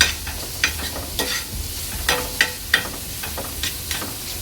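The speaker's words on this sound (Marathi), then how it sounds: "तीन ते 4 मिनिटांनंतर चांगलं तेल सुटत चाललेलं आहे मसाल्याला।" Masala frying in oil for a dried prawn (kolambi) dish sizzles steadily up close, with scraping stirs and sharp spatters recurring throughout.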